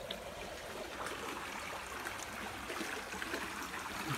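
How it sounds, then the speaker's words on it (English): Water in a creek flows continuously, a faint, even rushing and trickling from nearby with no voices over it. "Look at this creek."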